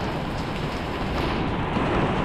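Steady heavy rain falls in a lane in Macau, a dense, even hiss that continues unbroken at close range with no voices.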